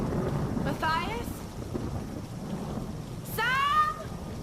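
Rain and rolling thunder in the Tomb Raider 2013 video game, a steady hiss of rainfall with thunder rumbles under it and two brief voiced cries rising over the storm.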